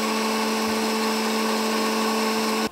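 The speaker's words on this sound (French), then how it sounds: "Vous voyez ce mixeur-là, il était complètement foutu." A repaired electric blender runs with a loud, steady high-pitched motor whine that holds evenly, then cuts off abruptly just before the end.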